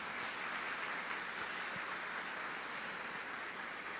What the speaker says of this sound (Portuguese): vamos dar uma salva de palmas a todas as mães